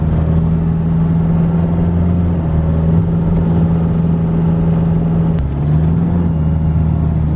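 A Sharan 1.9 on a test drive after a water-and-detergent engine decarbonizing treatment gives a steady, close engine drone with a brief dip in pitch partway through, and no talk.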